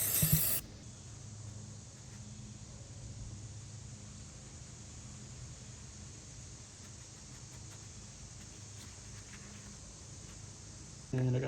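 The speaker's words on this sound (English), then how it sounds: "I'm just gonna spray some on here." A steady, continuous hiss of aerosol spray on a Subaru WRX's trunk area runs for about ten seconds at moderate level, with brief louder noises at the start and end.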